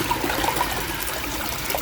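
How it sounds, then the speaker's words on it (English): Water gushes out of a broken pipe as a steady, close, rushing flow that continues unbroken throughout, with no talk. "look how that's flushing out there now"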